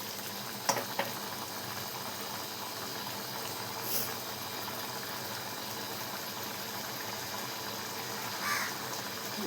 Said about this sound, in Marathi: मस्त अशी उकळी पण फुटलेली आहे आपल्या भाजीला